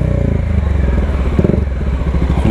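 Loud, close motorcycle engines drone and putter alongside, with some clattering road noise mixed in.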